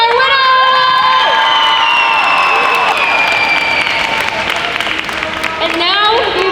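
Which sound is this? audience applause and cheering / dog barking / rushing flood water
audience applause and cheering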